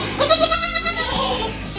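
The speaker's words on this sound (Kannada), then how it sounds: "ನೋಡಿ ಮೇಕೆ ಇದೆ ಇಲ್ಲಿ." A goat bleats loudly at close range in a village, giving one wavering, nasal call that trails off.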